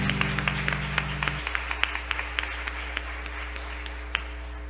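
Church congregation applauding during a service in Juiz de Fora, a steady patter of scattered claps with a few sharper individual hits over a constant low hum, moderately near throughout.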